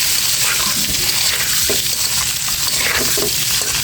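Duck and chicken eggs fry with turmeric and salt in a pan, making a loud, continuous crackling sizzle close up, with faint stirring scrapes and no speech.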